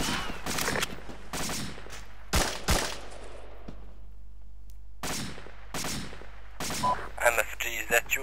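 Bursts of gunfire in a military shooter game during a suppressing and bounding drill: several sharp volleys and rapid automatic strings, some close and loud, with a low steady hum beneath and brief radio-style voices.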